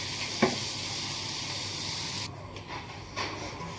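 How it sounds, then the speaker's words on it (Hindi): Masala frying in oil in a pan, a soft continuous sizzle and hiss with a brief sharp tick early on and a few faint stirring shifts later, quiet and close. "मसाला मेरा भून गया है।"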